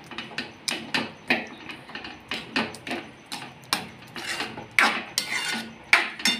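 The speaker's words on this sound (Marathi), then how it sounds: "थोड्याशा परत मी अजून असं भाज्यांना थोडंसं बारीक करून घेत आहे" Cooked vegetables are mashed into gravy in a pan, giving repeated close scraping and knocking strokes at an uneven, fairly quick rhythm with no talking.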